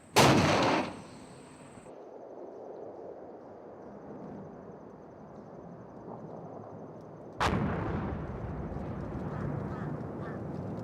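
Combat footage from the Korengal outpost area with two heavy artillery blasts, one at the start and another about seven seconds later, each a loud close boom followed by a long rumbling decay.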